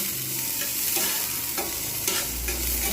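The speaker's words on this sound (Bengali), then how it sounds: "পেঁয়াজগুলো কিন্তু সফট করে ভেজে নেবো পোড়াবো না সফট করে হালকা করে ভাজবো" Onions fry gently in soybean oil for bread pulao, giving a continuous close sizzle with a few stirring scrapes and no speech.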